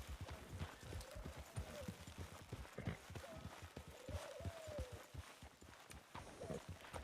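Hoofbeats of a horse in the Red Dead (RedM) video game clop in a steady rhythm close by, moderately loud under ambient game sound, with a brief whinny-like tone in places.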